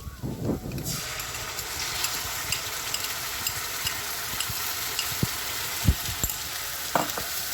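Frying cashews and tomato ketchup for Gobi Manchurian are stirred in a pan, with a loud, steady sizzle and a few sharp scraping knocks from the spoon near the end.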